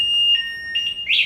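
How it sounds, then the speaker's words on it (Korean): Anti-theft alarm on a Motovelo A10 Pro electric scooter sounds loud and close, a steady piercing tone followed by shorter warbling bursts climbing in pitch, with no talking. "이 경보 소리 들으셨어요? 굉장히 소리가 크죠?"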